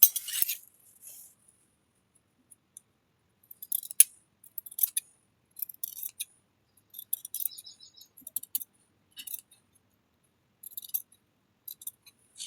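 Scissors snipping through blouse fabric for a sleeve, a string of sharp, close clicking cuts in short bursts with brief pauses between them, no voices.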